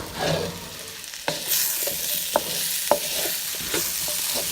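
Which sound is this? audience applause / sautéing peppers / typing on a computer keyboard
sautéing peppers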